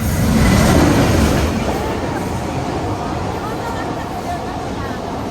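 A train rumbles past close by, a loud continuous roar with rattling wheels that eases slightly after the first second.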